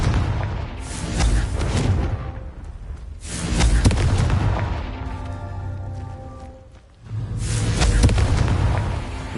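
Confringo fire spell cast in the Hogwarts Legacy video game: repeated loud fiery blasts and booming bursts in roughly three surges, each swelling and fading, with crackling in between and no talk.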